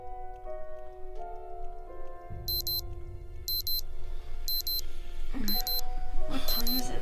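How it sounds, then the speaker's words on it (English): An alarm clock rings in repeated short beeping bursts at a steady rhythm, starting faint and growing louder over sustained background music, with brief voice sounds near the end. "It must be that alarm I set for you yesterday."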